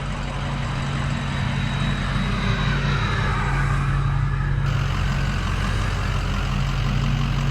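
A Ford truck's engine roars steadily under load as it digs in during redneck tree removal, a loud, continuous, unbroken drone with no talking heard.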